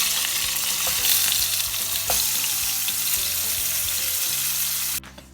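Food frying in a pan: dense, loud, continuous sizzling and crackling with occasional sharper spits, up close, cutting off abruptly near the end to near silence; no voices.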